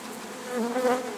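Honey bees buzzing at freshly built comb filled with new honey, a close, steady droning hum that swells slightly toward the end.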